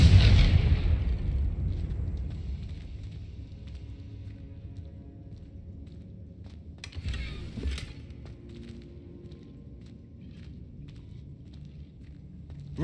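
A Confringo fire spell explodes in Hogwarts Legacy with one loud blast at the start, then a lower second burst partway through over rumbling game ambience.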